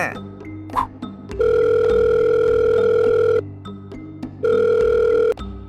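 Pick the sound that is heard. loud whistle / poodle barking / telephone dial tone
telephone dial tone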